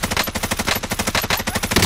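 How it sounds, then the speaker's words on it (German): Rapid automatic gunfire from a Call of Duty battle royale match, a dense burst of repeated shots rattling steadily for about two seconds, loud and close with no talking. "Ich werde beschossen."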